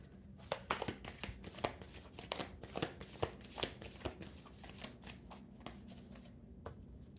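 A tarot deck being shuffled by hand, with a rapid series of crisp card riffles and flicks that come close and fairly quiet, with no talking over them.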